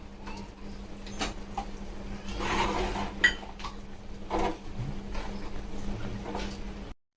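Soaked rice being stirred in a cooking pot for chicken tikka biryani, with scraping and clinking of a utensil against metal, steady and close, with no talk.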